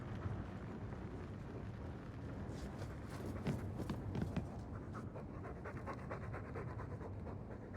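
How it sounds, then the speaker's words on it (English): Dog panting in the video game Dragon Age 2, a steady breathy rasp running through the whole stretch over low ambient game noise, with no talk. "All that noisy dog breath, day in, day out, make him stop."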